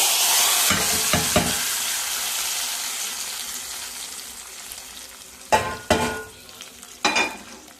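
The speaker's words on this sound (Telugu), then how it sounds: "ఎల్లుల్లిపాయ తాలింపు" Hot oil sizzles steadily as garlic tempering fries, fading gradually, then sharp bursts of spattering crackle flare up near the end.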